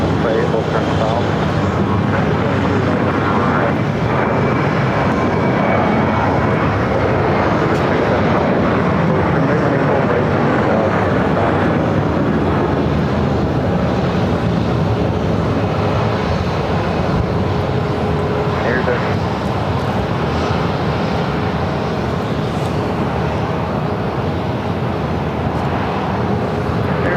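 An airliner on its takeoff roll from runway 7 at Phoenix airport, a loud continuous engine roar throughout with radio voices talking over it.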